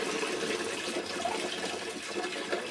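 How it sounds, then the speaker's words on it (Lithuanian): Quiet, steady rush of water being poured, soft and continuous for a few seconds, with no voices. "Tai Agniai pilsim vandenuko stomač"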